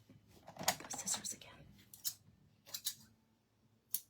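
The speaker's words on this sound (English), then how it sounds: "Go scissors" Scissors snipping paper for a handmade junk journal page, several short crisp cuts in uneven bursts, with soft whispery sounds between them in a quiet room.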